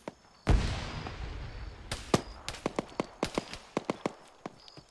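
A grenade explodes in Arma 3 military simulation gameplay, a single sharp blast that rings out loudly, followed by a scatter of distant gunshots and pops echoing through the next few seconds.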